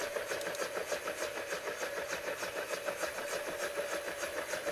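UH-1 Huey helicopter engine in the DCS flight simulator running up after start, a steady loud whine and throbbing turbine drone with a fast regular pulsing beat, continuous and without talk.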